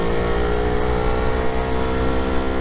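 A Lambretta scooter accelerating through a bend makes a continuous, loud, buzzing two-stroke engine drone. The engine holds a steady pitch close by, with no voices over it.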